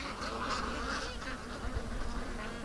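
A bunch of agitated pet ducks, a faint, continuous mix of quacking and honking calls with a buzzing, insect-like drone, distant and low in level throughout.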